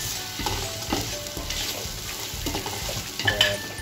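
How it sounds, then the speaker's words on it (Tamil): Chopped tomatoes fry and sizzle in a pan while a spoon stirs and scrapes through them, cooking the base for a Coimbatore-style chicken dum biryani. A steady close sizzle runs under repeated stirring strokes, with no talk. "நல்லா இந்த தக்காளி இதோட பரட்டிடணும்."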